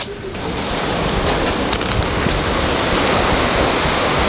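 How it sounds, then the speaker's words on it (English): A waterfall in Nikko, Japan pours in a loud, continuous roar of rushing water, dense and close, filling the whole stretch without a break and with no talking. "Now it's by waterfall."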